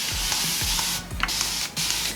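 Short spritzes of hairspray mist lightly over the top of hair on a wig, several quick sprays and brief hissing bursts close by with faint clicks between.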